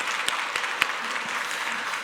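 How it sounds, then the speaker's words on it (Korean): A church congregation at a Sunday service clapping to welcome visitors, a dense steady patter of many hands filling the room, moderately loud and without speech. "우리 박수로 환영합니다."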